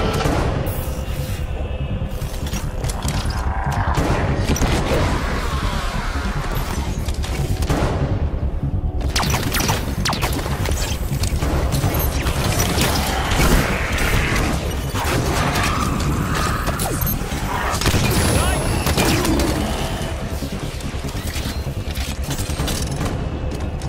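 Sustained gunfire and explosive booms from combat in the Halo 5: Guardians video game, Osiris team mission, with loud, dense bursts, thuds and mechanical clatter running continuously throughout.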